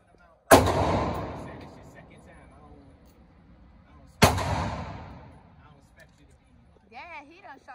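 Two loud gunshots at an outdoor shooting range, about four seconds apart, each a sharp crack with a long decaying echo, followed by brief faint talk at the end.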